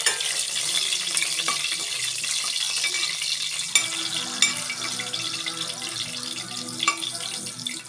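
Cloves and shahi jeera frying in hot oil for a vegetable keema curry, a steady bright sizzle throughout with occasional soft clinks and taps, no talking.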